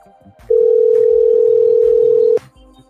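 A steady electronic telephone tone on a call sounds loud and continuous for about two seconds, then cuts off, with quieter background noise before and after.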